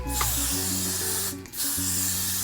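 Continuous hissing spray from an aerosol can of Got2b hairspray onto hair in two bursts with a brief pause between, close and fairly loud over a low background tone.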